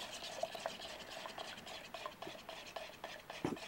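Two-part casting resin, 150 milliliters each of part A and part B, is stirred together during mold prep for casting a klipspringer skull: a quiet, steady scraping swirl close by with light irregular scratches.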